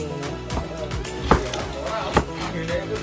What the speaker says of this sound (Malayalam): ഉള്ളി എവിടെയാണ് അരിയുന്നത്